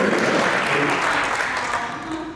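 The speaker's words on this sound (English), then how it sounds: "Let's give a round of applause." An audience at a future leaders forum session bursts into a full round of applause that fills the room and holds steady throughout, tapering slightly at the end, with faint voices underneath.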